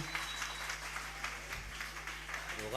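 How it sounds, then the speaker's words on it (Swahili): Applause from a youth seminar audience, fairly faint and rippling with a steady low hum underneath, with a few voices mixed in. "Chapie makofi mazuri jameni"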